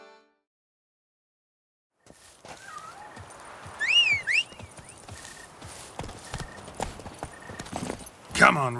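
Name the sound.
horse Roach's hooves clip-clopping in The Witcher 3 video game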